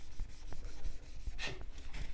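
Soft, rhythmic rubbing and scraping strokes of sandpaper worked back and forth over a wooden guitar fretboard on a Telecaster-style build, close and fairly quiet.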